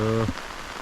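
A steady hiss of falling rain fills the moment, briefly preceded by a short low hum, during fishing outdoors in Kerala.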